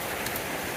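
Torrential rain drums on and around a Vauxhall Vivaro van under conversion, a dense steady hiss heard close and loud with no breaks and no voices.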